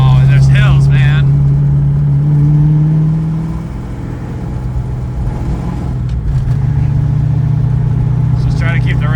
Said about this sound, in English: I can hear it knocking bad now.